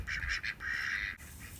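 Ducks quacking beside a backyard wooden coop, a few close, repeated nasal calls in quick succession, moderately loud with no voices.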